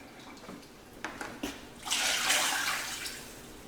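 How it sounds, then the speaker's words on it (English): Tomato sauce and water poured from one can into another in a home kitchen: a few soft clinks and taps, then a short gurgling, splashing pour that fades out, fairly quiet. "Pour it into the other can."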